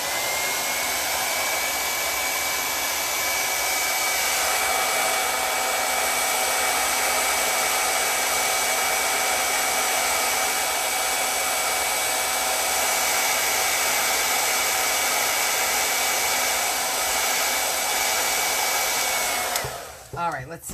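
A hair dryer blows close and loud on a chalk craft bunny, a steady unbroken whooshing hum that runs almost twenty seconds before cutting off with a short bump of handling.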